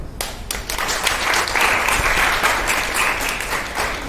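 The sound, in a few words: applause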